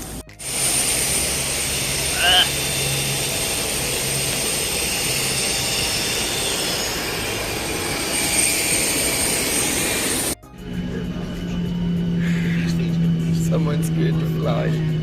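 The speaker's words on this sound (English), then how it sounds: "our aircraft taxied into the bay" A jet aircraft engine roars steadily and loud inside the cabin, broad and constant, cutting off abruptly before resuming with a lower hum.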